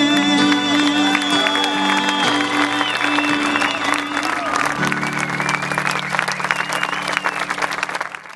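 A crowd at an outdoor Memorial Day ceremony in Murfreesboro, Tennessee applauds and cheers as a patriotic song ends, the clapping dense and continuous beneath a lingering sustained musical tone.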